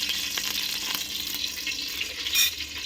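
Mutton kofta, balls of minced mutton, sizzle as they are tempered and fried in hot oil in a pot, a steady close hiss with brief stirring scrapes and no talk.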